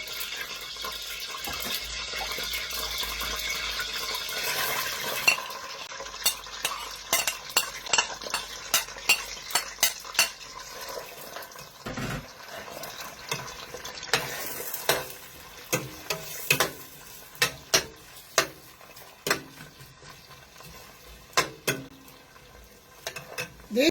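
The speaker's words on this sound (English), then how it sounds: "Now let's put the onion in the oil." Onions sizzle in hot oil for a spinach and agushi stew, a dense steady frying hiss broken by repeated scraping, clinking strokes of a utensil stirring against the pan, close and with no talking.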